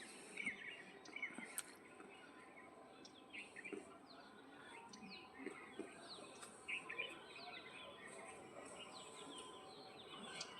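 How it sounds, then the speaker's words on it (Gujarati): Village birds call at sunrise on a misty morning, many faint chirps and twitters scattered across the distance over a low steady background hum. "અને જો આ બાજુ ઓલા પક્ષી બોલે છે બધા."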